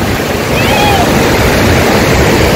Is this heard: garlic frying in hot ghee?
no